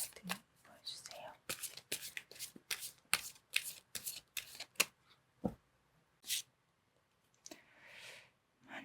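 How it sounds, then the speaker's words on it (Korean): Tarot cards shuffled and drawn close up, a rapid run of crisp riffling bursts followed by a few separate card slides and soft handling sounds, with faint whispery noise. "두 분의 관계성을 알 수 있는 두 장의 카드를 한번 먼저 뽑아보도록 하겠습니다"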